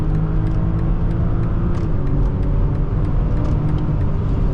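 Cabin of a 2021 BMW X5 xDrive40i on the move, its 335-horsepower engine under a steady, loud low rumble of road and tire noise with faint ticks throughout.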